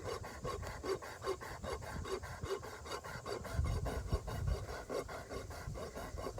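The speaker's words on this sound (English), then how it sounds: "take off some of this flare on her heels again by rubbing the side of her hoof, not the bottom" A rasp files flare from the side of a horse's hoof at the heels in repeated steady rubbing strokes, close and moderately quiet, with a faint low rumble in the background and no speech.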